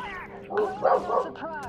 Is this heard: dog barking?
yes